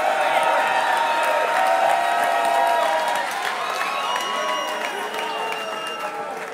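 Rap battle crowd clapping, cheering and whooping after a bar, a loud, roaring mass of voices and hands that swells early and then eases off slightly toward the end.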